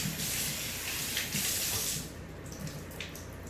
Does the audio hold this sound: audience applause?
no